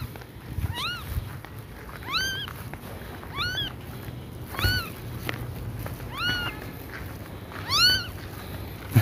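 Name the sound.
kitten and cat meowing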